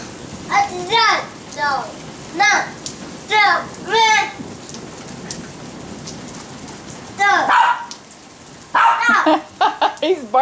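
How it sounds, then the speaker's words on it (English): Dog barking at a flashlight in a rainstorm: several short barks and yelps in bursts, close by, with steady rain hiss underneath and people talking in between. "He's barking at your flashlight."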